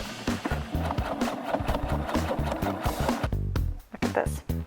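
A sewing machine stitching together the outer corset parts of a wedding dress made from bedsheets, a loud rapid mechanical chatter running almost continuously with a brief pause, close by.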